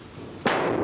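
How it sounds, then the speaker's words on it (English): A sudden sharp burst as a car's plastic petrol tank bursts cuts through a steady roaring car park fire, followed by a louder, sustained rush of flames. "A few minutes later, the plastic petrol tank bursts."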